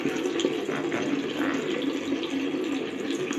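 Running water from a tap while someone washes their face, a steady close splashing flow that continues without a break.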